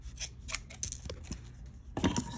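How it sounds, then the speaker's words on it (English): Scissors trim the stray strands of a yarn pom pom, a series of close, crisp snips in an uneven rhythm, with a denser burst of cutting toward the end. "flip it over to where the tail is and cut that as well, like trim the extra little pieces."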